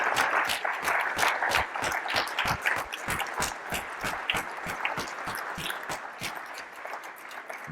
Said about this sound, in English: you all really deserve a round of applause